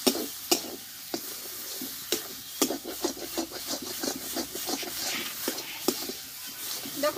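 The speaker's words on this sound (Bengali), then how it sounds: "দেখো ভাজা মশলাটা দিয়ে আমি আর একটু কষে নিব।" Roasted masala spice mixture with turmeric being fried and stirred in a pan for a vegetarian flat-bean chop filling, with repeated scraping and rubbing strokes over a soft sizzle.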